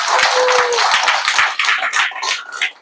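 Audience at a cryptocurrency sales presentation claps together, a dense burst of hand claps at close range that carries on steadily for a few seconds and thins slightly toward the end.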